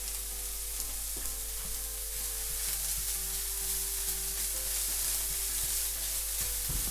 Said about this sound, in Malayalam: നമുക്ക് ഗ്രേറ്റ് ചെയ്ത് വെച്ച ക്യാരറ്റ് ഇട്ട് കൊടുക്കാം